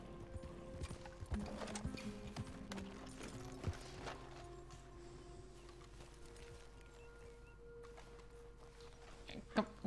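Horse hooves clip-clopping in Red Dead Redemption, a sparse, uneven series of faint hoof knocks with mechanical clicks and a brief whinny-like sound, quiet and close.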